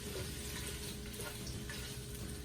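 Meatballs brown in the pot of a Ninja Foodi pressure cooker for zuppa toscana soup, giving a constant soft sizzle and low bubbling hiss, close but quiet and unbroken, with no one talking.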